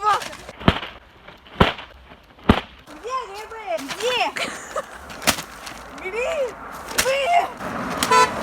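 A passing car honks amid an autumn outing in the woods, with several sharp horn-like bursts standing out over ongoing chatter and children's voices.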